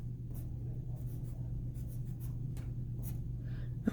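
Pen or marker drawing a physics diagram by hand, a run of short scratchy strokes at an irregular pace over a low steady hum.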